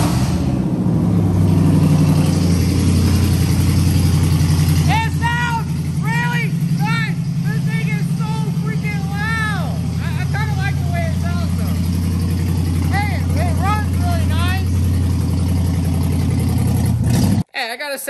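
A Dodge Ram 1500 with a straight-pipe exhaust left by thieves rumbles loudly and steadily at idle, deep and close. Someone talks over the engine for much of the time, and the engine cuts off abruptly near the end.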